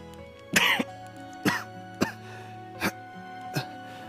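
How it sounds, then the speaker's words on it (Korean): A series of five short coughs and throat-clears, spaced unevenly with brief pauses between them, close by and fairly loud against a quiet background. "기침이 자꾸 나서 참말로 큰일이다"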